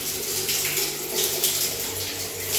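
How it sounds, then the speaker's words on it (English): Shower water pours steadily onto a tiled bathroom floor and runs into the floor drain, producing a continuous close hiss and splash with no talking. "The showers here are a little bit different than in America."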